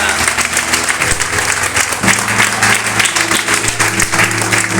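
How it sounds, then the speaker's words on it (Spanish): A church congregation claps loudly in sustained, dense applause during an evangelical service, with a low hum beneath and voices faintly mixed in. "que pueda darle un aplauso al Señor"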